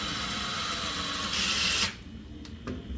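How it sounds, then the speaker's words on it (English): Steady high-pitched whine of a power drill marking holes for an undersink sliding drawer, running continuously for almost two seconds, then it cuts off, leaving a couple of faint clicks in quiet room tone. "take your drill, mark the hole"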